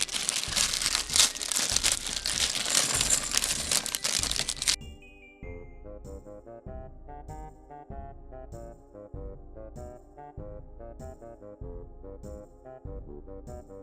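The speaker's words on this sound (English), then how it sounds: "So first thing we'll do is we'll open up this poly bag." A LEGO plastic polybag for a Halloween custom minifigure set is torn open and handled, making loud close crinkling and crackling for several seconds, after which the rustling stops and music plays.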